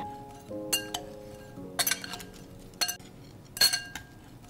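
Seasoning is stirred into egg roll filling in a bowl, giving several sharp clinks of a utensil against the bowl in irregular bursts, close and fairly quiet between strikes.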